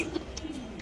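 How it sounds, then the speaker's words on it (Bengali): A pigeon at a home pigeon farm in Mirpur, Dhaka, gives a brief soft coo, low and near, within a faint background of chirps. "কবুতর ডাকটা খুবই সুন্দর"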